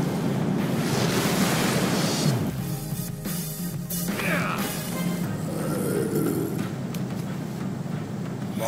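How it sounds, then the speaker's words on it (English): Rushing waterfall in Minecraft: Story Mode, a broad continuous roar of falling water with a windy, surf-like wash, steady and fairly loud throughout, with faint voice-like sounds drifting underneath. "Almost sounds like a waterfall!"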